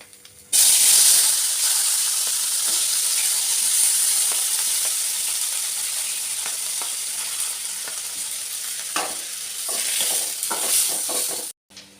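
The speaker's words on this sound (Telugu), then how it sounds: "ఇప్పుడు ఇదే నూనెలో కట్ చేసి పెట్టుకున్న టమాటాలు వేసుకోవాలి" Chopped tomatoes hit hot oil, left over from an earlier frying step for dried red chilli tomato chutney, and sizzle loudly and steadily for several seconds with a bright hiss and occasional stirring scrapes. No one talks.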